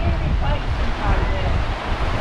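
Stream water rushing in full force through Trollers Gill, a limestone gorge in the Yorkshire Dales, with a steady broadband roar close by, mixed with wind buffeting the microphone.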